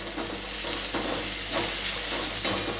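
Amaranth leaves and urad vadiyalu being stirred while they fry in a pan, with a close, continuous sizzle and hiss broken by regular scraping strokes of the spoon.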